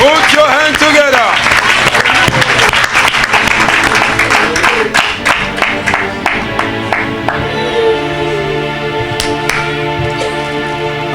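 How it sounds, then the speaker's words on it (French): Loud, sustained applause from a congregation at a prophetic healing service in a church, strong at first and thinning into scattered claps under musical tones and voices. "Somebody clap for Jesus. Put your hands together."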